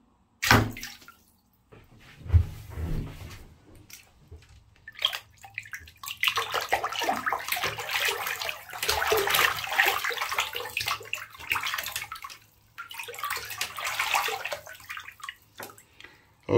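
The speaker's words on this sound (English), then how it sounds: "I'm just going to drop the watch into the bathtub." A smartwatch is dropped into a bathtub and held under the water. Close splashing and sloshing come in uneven bursts, rising and falling over several seconds.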